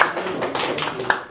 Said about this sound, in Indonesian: tepuk tangan sekali untuk kelompok 1